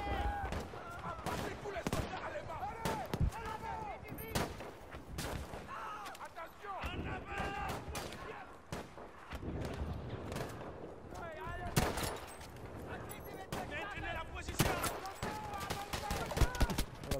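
Gunfire in the video game Battlefield V: sharp shots and bursts at irregular intervals, some loud and close, mixed with game sounds while a player talks over them.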